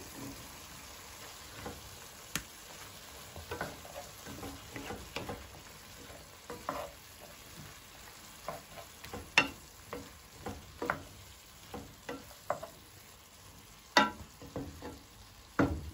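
Bell pepper frying in a pan gives a steady sizzle, while a utensil scrapes and clinks against the pan in irregular stirring strokes throughout.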